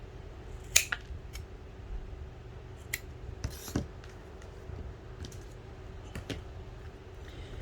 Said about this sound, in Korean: 튀어나온 부분은 가위로 이렇게 잘라줍니다.